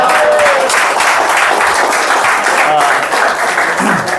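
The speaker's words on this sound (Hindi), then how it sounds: "आपकी तालियां देकर काफ़ी दिल खुश हो गया" Audience applauding at an open mic poetry event, a dense, steady wash of clapping that holds loud for the full stretch with a faint voice underneath.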